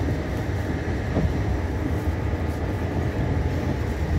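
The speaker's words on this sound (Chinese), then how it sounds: "火车出发了" A train pulling out of a station in Taiwan, heard as a steady, broad low rumble and rolling hum that carries on without a break and without any voices.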